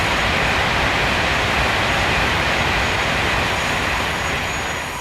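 Electric trains rush past on the Knuston Farm map in Farming Simulator 19, a loud, steady roar of wheels and rushing air that fills the whole stretch with no talking.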